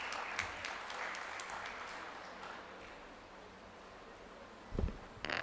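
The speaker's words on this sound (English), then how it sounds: "Can we have a round of applause, please?" A room full of people at a dental conference oration claps steadily, a dense even patter that fades slightly before a brief thump near the end.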